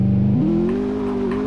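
A car in the Roblox game South West Florida accelerates, its steady engine drone climbing sharply in pitch and then holding high and loud throughout, with no talk over it.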